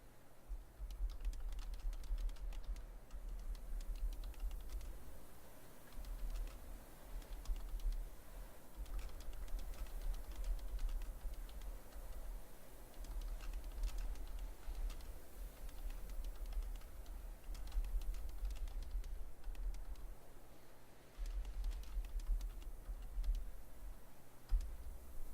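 Computer keyboard typing during PC gameplay of Boundless, a steady stream of soft clicking keystrokes in quick bursts with brief pauses, fairly close and continuing throughout over a low hum.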